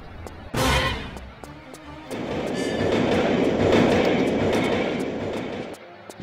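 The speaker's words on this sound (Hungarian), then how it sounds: "Mert a metrózás nagyon veszélyes." A subway train in the game Tomb Raider 3 rumbles past with a rising, rolling roar and rhythmic clacks, swelling to a peak and then easing off.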